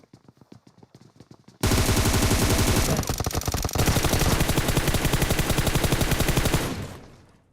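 Automatic gunfire in PUBG Mobile KR opens with a few scattered shots, then becomes a loud, continuous rapid-fire burst lasting several seconds before it tails off into a fading echo.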